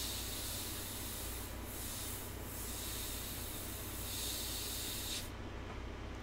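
An Iwata Micron CM-C Plus airbrush sprays India ink in a steady, close hiss of air that carries on continuously and then cuts off sharply near the end, with no talk.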